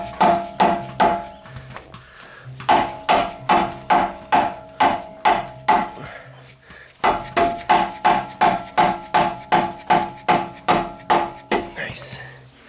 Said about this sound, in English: You just use a little plastic hammer action.